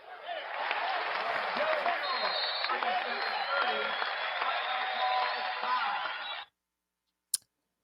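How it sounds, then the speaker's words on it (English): Sustained applause from a crowd at a gathering of Chicago residents, dense, steady clapping lasting several seconds before cutting off abruptly, followed by silence and a single sharp click. "Let's give a hand clap for Chicago."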